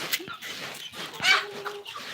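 Pet chickens cluck in a few short, close bursts with brief quiet gaps between them.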